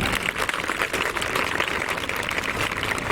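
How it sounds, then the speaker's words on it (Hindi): A crowd at a school sports ceremony and trophy distribution claps for the teachers, a dense, continuous burst of applause held at a steady level throughout. "सभी गुरुजनों के लिए एक बार बड़ी ताली"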